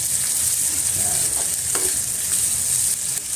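Bagoong alamang, a Filipino shrimp paste, sizzling steadily in a pan at close range, with occasional stirring scrapes over a constant frying hiss and no talking.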